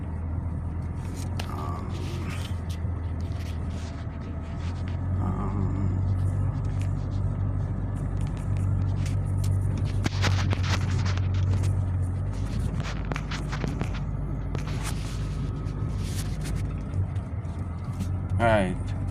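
A car's low engine drone and road rumble hold steady from inside the cabin while driving, under someone talking throughout, with occasional clicks and rattles.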